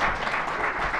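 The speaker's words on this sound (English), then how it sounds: "Let's do a round of applause for our speakers" Steady applause from a forum audience after the speakers, a dense continuous wash of many hands clapping at once, fairly loud with no voices standing out.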